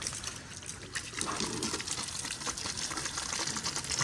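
Water splashed by hand for washing at a village farm, a steady gushing, spattering flow that runs close and fairly loud for the whole stretch with no talk over it.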